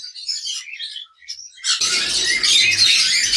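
Sun conure parrots call at a bird farm, a brief high chirp giving way to a loud, continuous shrill squawking chorus close by, with no talk.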